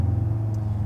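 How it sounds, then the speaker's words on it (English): A 780-horsepower Audi RS3 pulls hard in a second-gear roll on a public road, a close, steady low engine drone for a brief moment. "All right, we'll do another second gear roll on here."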